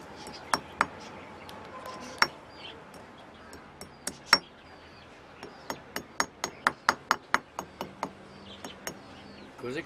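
Metal hammer strikes ring out in a small home workshop, sharp clinking impacts scattered at first, then a quick regular run of blows, fairly close and unaccompanied by speech.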